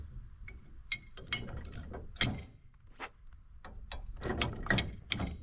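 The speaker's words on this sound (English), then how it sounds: "all I gotta do is pull these out, spin it around, put it where I need it" Hitch pins are pulled and a B&W Tow and Stow ball mount is rotated, making a series of sharp metallic clicks and clanks with scraping between them, close and fairly quiet, and no voice.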